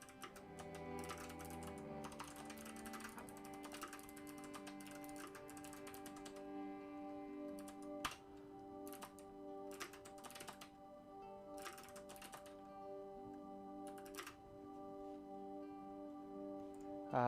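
Typing on a computer keyboard hooked to a Wyse thin client, quick irregular clicks in bursts and pauses against a steady electronic hum, fairly quiet, with no talk.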